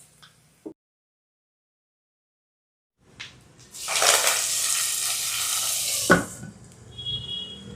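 Hot tempering of cashews, asafoetida and curry leaves is poured into Katte Pongal, a short clink followed by a loud sizzling burst that holds steady for about two seconds, then settles into fainter bubbling.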